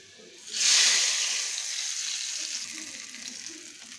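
Hot garlic and onion tempering poured into tomato chutney, a sudden loud sizzle bursting up, then slowly fading to a steady hiss that carries on to the end.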